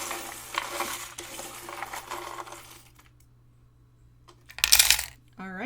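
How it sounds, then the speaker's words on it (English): Small metal charms shaken and shuffled around inside a box, giving a brief close burst of jingling clinks that follows some earlier rustling and talk. "I'm going to shuffle around the charms in the box here."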